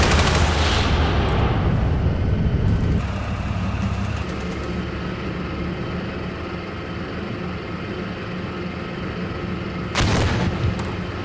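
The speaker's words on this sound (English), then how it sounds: "We're taking fire here." Gunfire in the Steel Beasts tank video game, loud heavy bursts at the start and again near the end over a continuous rumbling battle background, no talk.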